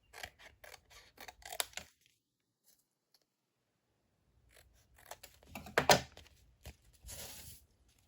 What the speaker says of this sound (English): Then you grab your scissors, and then you're just going to follow the outline of the pocket tag.